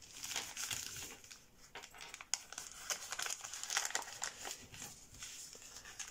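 Paper being folded into petal folds for a hard origami lobster: close, quiet crinkling and crackling with short sharp crease snaps in an irregular rhythm, no speech.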